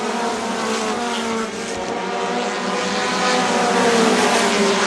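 Race cars at a NEMA event roar steadily around the track. The engine drone is loud and continuous, pitches climbing slightly as they push through a turn.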